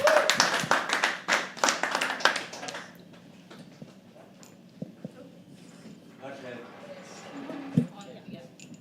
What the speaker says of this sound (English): Keep clapping till she comes on stage.